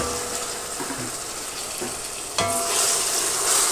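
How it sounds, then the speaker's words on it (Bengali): Dried shrimp is frying with onions in a hot pan, giving a loud, continuous sizzle with a few scraping stirs and a sudden surge of crackling partway through. "পেঁয়াজের সাথে ভালো করে ভেজে নিব।"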